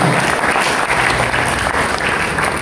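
Loud, continuous applause from a church congregation during an anniversary worship service, many hands clapping in a thick, even roar that holds steady throughout with a faint tonal hum beneath.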